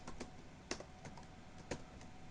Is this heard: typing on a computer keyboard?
yes